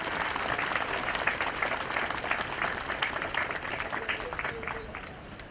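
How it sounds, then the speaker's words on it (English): An audience applauds for a Marine Band and POW singers at an outdoor memorial honor and burial ceremony: steady, fairly distant clapping from a crowd, even and continuous, softening slightly toward the end. "I'd like to just ask you for a round of applause"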